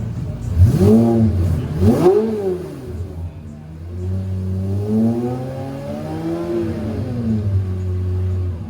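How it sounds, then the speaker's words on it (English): Cars rev and accelerate through the streets of Monaco, with two sharp close-by revs early on, then a longer engine note rising and falling as vehicles pass, loud and near throughout. "just the cars going about everywhere is just absolutely crazy."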